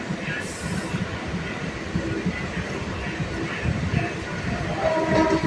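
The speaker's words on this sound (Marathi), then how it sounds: "त्या साईडने ट्रेन पण चालली" A train rolls past with a steady rumble and rhythmic clatter of wheels on track, holding a consistent, moderately close presence throughout.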